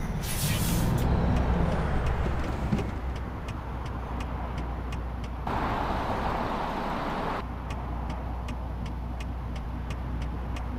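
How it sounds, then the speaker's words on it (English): A Caterpillar truck engine in the American Truck Simulator video game, in a Peterbilt 389, rumbles steadily, its low drone rising and falling, with a brief hiss of air brakes and regular clicking over it. "Y'all don't know about this Cat engine sound."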